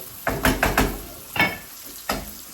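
Onions fry in a pan while a spatula stirs them in several quick close scrapes and clatters, with soft sizzling underneath and no talk.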